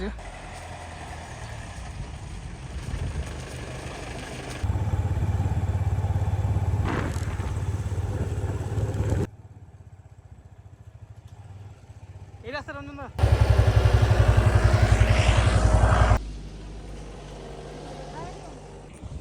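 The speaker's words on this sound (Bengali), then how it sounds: "রঞ্জনদার গাড়ি আসছে এই রাস্তা" A motor vehicle's engine runs on a mountain road near a pine forest, rumbling loud and close in two steady bursts separated by quieter stretches of softer background noise.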